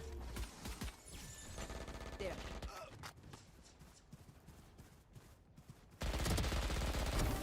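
Rapid bursts of Stinger submachine-gun fire in a competitive Valorant match, sharp crackling volleys set within dense game sound, with a louder wash of noise near the end.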